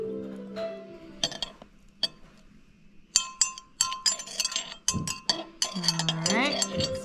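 Spoon clinking against a glass while stirring freeze-dried raspberries, with repeated bright taps and scrapes that grow busier toward the end.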